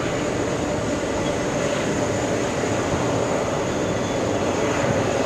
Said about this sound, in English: What do you think of those CF6 engines? You can still hear them, by the way.